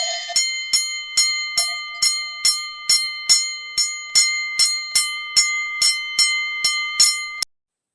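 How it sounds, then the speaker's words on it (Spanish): A boxing round bell rings in a rapid series of about a dozen sharp metallic strikes, evenly spaced and bright, each ringing briefly before the next, then stopping abruptly. "Campana."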